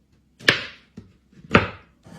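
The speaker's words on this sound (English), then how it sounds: "So I'm going to try to cut some regular chocolate chips." Knife chopping regular chocolate chips on a cutting board: two sharp, close chops with lighter taps between them and a final tap at the end, in a quiet room.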